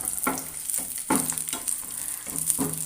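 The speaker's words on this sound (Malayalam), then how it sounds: "അതൊന്നും മൂത്ത് വരുമ്പോൾ നമുക്ക് കുറച്ച് അണ്ടി മുന്തിരിങ്ങ കൂടി ഇട്ട് കൊടുക്കാം" Cashews and raisins frying in a pan for semiya payasam, a steady close sizzle broken by several soft stirring scrapes at a loose rhythm.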